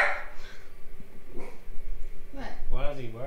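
Dog barking and whimpering in its cage, short yips and barks mixed with people talking nearby.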